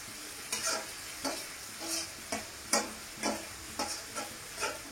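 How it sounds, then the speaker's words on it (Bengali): Onions frying in a pan for chicken paturi, stirred in a steady rhythm: about ten soft scraping strokes ring over a continuous quiet sizzle, close and moderately loud, with no voices. "এইভাবে একটু ভালো করে পেঁয়াজটাকে ভেজে নেব"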